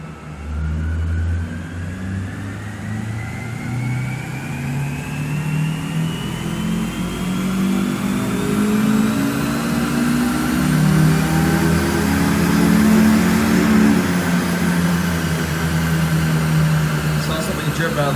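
A 218,000-mile Honda S2000 runs on a dyno, its engine holding a loud steady drone then climbing through a long rev sweep with rising harmonics, sustained and close throughout.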